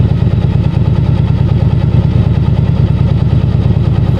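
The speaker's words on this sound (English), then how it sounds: "Riding the motorcycle at this point is no problem at all." A motorcycle engine runs steadily and loudly throughout, a low, even pulsing drone with no breaks, close to the microphone.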